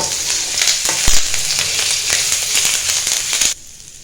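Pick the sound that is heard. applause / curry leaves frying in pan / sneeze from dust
curry leaves frying in pan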